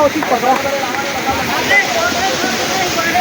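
A forest waterfall rushes steadily during a group picnic outing, a loud, constant wash of falling water with people talking over it.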